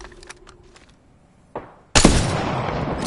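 Gunfire in Apex Legends: a few faint taps, then a sharp single shot, then a loud sustained burst of rapid automatic fire with heavy echoing blasts.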